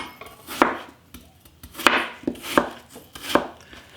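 A paring knife cuts through apples on a board in five or six sharp, separate chops spaced irregularly about half a second apart. The chops sound close and clear, with no talking.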